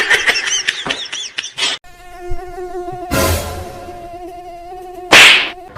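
A mosquito whines close by in a thin, tonal drone that wavers in pitch, interrupted by a couple of sharp slaps and louder bursts, with no talking.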